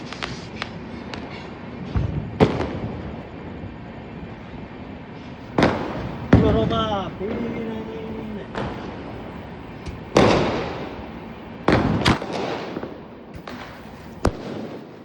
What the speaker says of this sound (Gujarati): ફટાકડા ફોડી રહ્યો